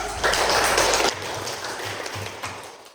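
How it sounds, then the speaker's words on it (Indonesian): Classroom applause for a student group after their presentation: a dense, loud patter of hands that lasts about a second, then fades into a softer, thinning scatter of claps over a low hum. "Tepuk tangan terlebih dahulu kepada kelompok 1"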